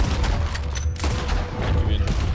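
Gunfire in the Western video game Red Dead Redemption 2, a dense burst of loud shots layered over a continuous low game soundscape.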